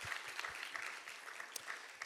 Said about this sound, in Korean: 이 시간 우리 승윤 형제님 환영하는 마음으로 함께 박수하도록 하겠습니다